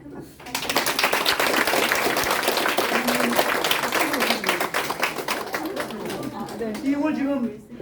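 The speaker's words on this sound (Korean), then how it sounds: "선생님께 다시 한번 더 큰 박수" Audience applause after a talk on parent–child communication, a dense, sustained burst of clapping filling the room for several seconds, tapering slightly at the end as a voice begins speaking over it.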